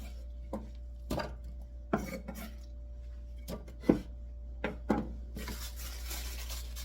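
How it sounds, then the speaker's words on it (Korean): Radish being sliced on a cutting board while making white kimchi: a series of separate knife chops landing at irregular intervals, close and fairly soft over a steady low hum. "무도 한쪽만 썰어서 넣을 겁니다"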